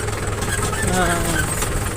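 A tractor engine runs at a steady idle, a close mid-pitched drone with a slight knocking pulse, continuous and unchanging throughout.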